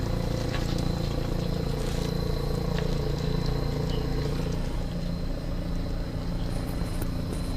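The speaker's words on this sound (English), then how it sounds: "You could probably hear the chopper right above me in East Nantmeal Township" A search helicopter hovers overhead in East Nantmeal Township during a manhunt, its rotor rumble steady and continuous throughout, with faint distant background noise and no speech.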